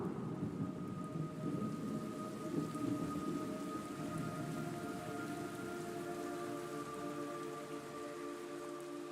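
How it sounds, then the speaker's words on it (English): Steady video-game rain pours throughout in Metal Gear Solid 3 Delta, with a low rolling thunder rumble and a faint sustained tone, no voices. "It's raining blood."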